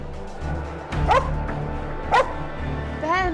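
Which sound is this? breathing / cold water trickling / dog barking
dog barking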